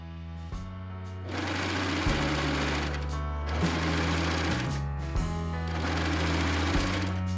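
A cover stitch sewing machine runs steadily while stitching down fabric on a thrifted top, a close, loud mechanical hum with a faint rhythmic pulse that starts and stops in short runs, with no talk.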